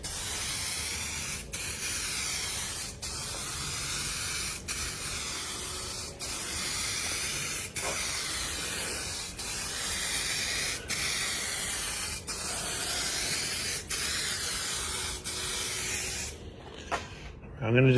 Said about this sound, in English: Oh, I like nice vertical spray.